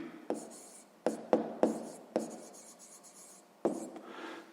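A pen writes down an answer to a sixth-grade maths exercise on paper, several short scratchy strokes and taps separated by brief pauses, close and quiet, with no talking.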